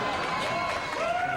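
Short burst of audience applause and cheering, a steady mass of clapping heard close while someone talks over it.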